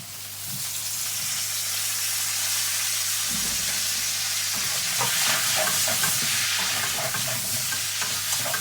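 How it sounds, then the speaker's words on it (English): Potato wedges drop into hot oil and fry with a loud, continuous sizzle and hiss. Stirring scrapes and bubbling grow more active partway through. "the oil's now hot enough to cook the potatoes in, so they're just going to go in it"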